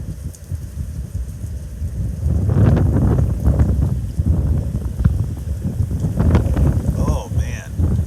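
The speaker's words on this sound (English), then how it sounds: "Comes another gust." Hurricane Henri wind gust, a rising, blustery roar with heavy microphone buffeting that swells after a quieter start and stays strong, with a person speaking faintly underneath.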